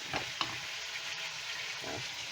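Sliced garlic and greens frying in a stir fry, a steady close sizzle with a few brief scraping or clinking touches, no talk.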